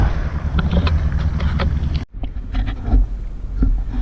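Strong cold wind blowing at the seashore, a loud, rough, continuous roar of buffeting gusts on the microphone that briefly cuts out about halfway through, then resumes just as strong.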